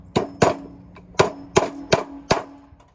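Roofing nails being hammered into a metal deck joist hanger: six sharp, ringing metallic strikes at an uneven steady pace, close and loud with no talking.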